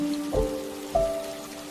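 Rain falls steadily in a forest, a soft continuous patter under a low, sustained tonal drone, with a couple of brief louder swells.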